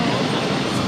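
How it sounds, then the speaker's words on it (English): A Bombardier Challenger 350 business jet taking off at Boston Logan gives a steady, loud broadband roar, close and unbroken, with no voice over it. "This Bombardier Challenger 350 taking off to Teterboro, NetJets 738."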